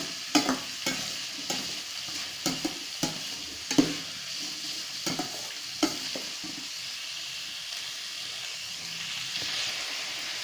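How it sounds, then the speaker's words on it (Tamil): Pirandai, or veld grape, sautéing in a pan while a spoon stirs and scrapes it in repeated knocks over a soft, continuous sizzle, close and moderately quiet. "இது வதக்குனிங்கன்னா ஒரு ஐம்பது கிராம் ஒரு எழுபத்தஞ்சு கிராம் இப்படி தான் வரும் நல்லா வதங்கிடும் பிரண்டை"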